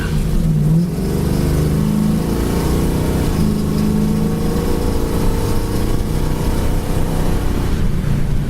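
A 1968 Pontiac Firebird cruises down the road with a steady, loud engine drone and rising tones as it accelerates, with no talk over it.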